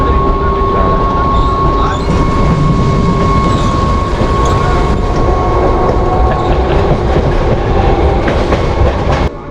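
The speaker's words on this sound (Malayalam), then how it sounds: "നമ്മുടെ കയറിയ ട്രെയിൻ ഫുള്ളായിട്ടോ." A Mumbai local train rumbles along the tracks, heard from inside a crowded carriage: loud continuous wheel noise with rhythmic clickety-clack and occasional faint squeals, steady throughout.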